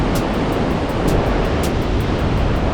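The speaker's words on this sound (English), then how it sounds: "those waves." Ocean surf rolls onto Kata Beach in Phuket, Thailand, as a steady, dense wash of broadband roar that fills the whole stretch without pause, with faint hissy pulses riding on top and no voices.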